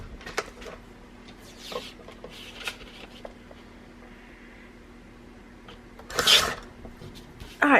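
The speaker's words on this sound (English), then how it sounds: "Trim one edge off. I'm going to trim this belly band." Paper belly band trimmed along one edge: quiet intermittent scraping and rasping strokes of a trimmer blade over paper, with a louder sharp swipe near the end, under a faint steady hum.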